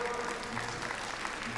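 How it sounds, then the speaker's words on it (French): A crowd at Japan Expo claps for a contestant in a 1-2-Switch game challenge, a brief, fairly soft wash of applause with faint voices mixed in. "Brendan, on peut l'applaudir bien fort."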